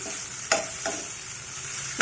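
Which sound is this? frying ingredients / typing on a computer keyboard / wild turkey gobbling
frying ingredients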